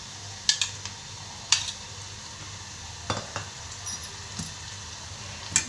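A spoon stirs jaggery into kadhuka kheer in a pot, giving a few sharp clinks and scrapes against the metal over a soft, steady simmering hiss.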